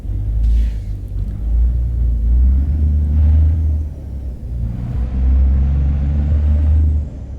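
International Lonestar lift truck making a wide right turn, its heavy diesel engine rumbling loud and steady with low throbbing swells throughout, no talk.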